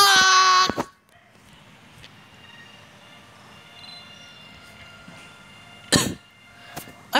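A sharp cough at the start, then quiet room tone with faint rumbling, followed by a couple more short coughs near the end.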